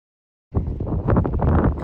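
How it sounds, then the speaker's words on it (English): Gusty wind buffets the microphone with a low, rumbling roar that starts abruptly and continues steadily. "It's super windy today."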